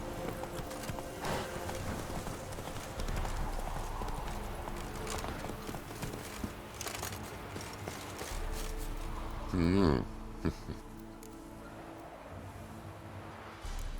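Rhythmic hoofbeats of a horse galloping in The Witcher 3 video game, a steady clip-clop under continuous game ambience and music, with a brief vocal or whinny-like sound near the end.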